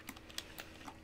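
Quiet keystrokes on a computer keyboard, four or five soft separate clicks in about a second, close and faint, with no speech.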